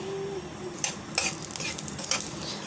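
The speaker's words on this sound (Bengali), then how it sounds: "প্যানেতে দিয়ে দিয়েছি তেল দিয়ে দিচ্ছি পেঁয়াজ কুচানো" Chopped onion hits a small amount of hot oil in a pan, giving a steady sizzle with a few sharp scraping stirs of a utensil, close and moderately loud with no talking.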